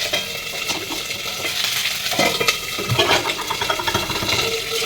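Pointed gourd peels fry in a pan, a close, busy sizzle with irregular stirring scrapes and crackles throughout, no voices heard.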